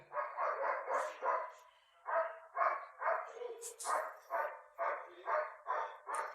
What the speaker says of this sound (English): This damn dog!